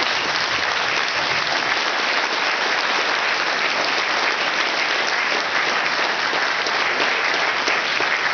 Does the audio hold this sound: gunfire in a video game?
no